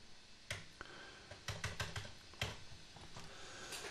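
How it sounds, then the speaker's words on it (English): Keystrokes on a computer keyboard while entering a basic SQL command in a database editor, a few scattered clicks followed by quicker bursts of close, crisp taps with short pauses between. "So let's type a very basic SQL command, something like select everything from table customers."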